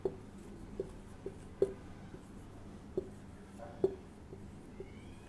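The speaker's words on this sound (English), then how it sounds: "Let me write the string here" A pen writes out a string of letters by hand on paper, giving soft scratchy strokes with small taps at irregular intervals, quiet and close, with no talking.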